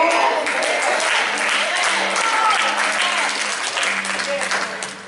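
A crowd applauds and cheers in a long, steady wash of clapping and voices that fades slightly toward the end, with a voice speaking over it.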